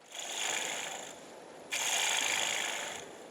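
A woodturning gouge cuts into spinning timber, giving a bright, steady shearing hiss in two sustained passes with a short pause between them, close and fairly quiet.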